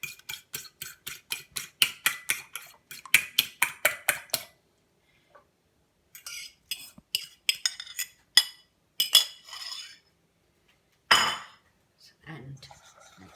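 A utensil whisks kokis batter with egg and milk in a bowl, making quick rhythmic clinking strokes in several bursts separated by short pauses.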